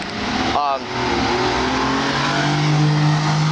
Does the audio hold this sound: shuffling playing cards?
no